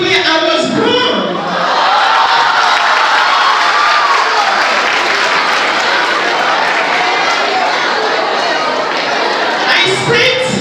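A loud, dense wave of audience applause mixed with crowd noise fills the room continuously for about ten seconds, with a voice briefly audible at the start and end.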